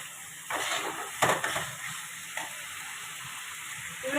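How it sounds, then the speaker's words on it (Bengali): Paneer pieces tipped into a hot pan for paneer posto set off a steady sizzle, with a few brief scraping bursts early on and no talking. "পনিরগুলো ঢেলে দিলাম"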